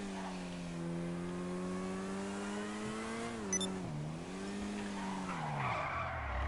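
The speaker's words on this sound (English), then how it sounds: "Driving through the hard city in a hard car." A car in Grand Theft Auto Online drives and skids through a city, its steady engine drone bending in pitch as the tires squeal, loud and continuous with no talking.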